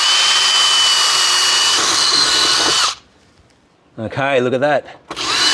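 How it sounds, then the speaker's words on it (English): A power drill bores holes from underneath into a 90mm plastic gutter nozzle, a loud steady whine for about three seconds that cuts off abruptly, followed by a short spoken remark and the drill starting again. "to cut the nozzle from the outside, from underneath, I'm going to just drill a few holes."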